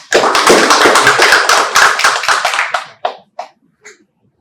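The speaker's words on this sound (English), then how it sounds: "Let's give a big round of applause." A conference audience at an oncology meeting breaks into a dense burst of applause that holds for about three seconds before thinning to a few scattered, isolated claps and fading out.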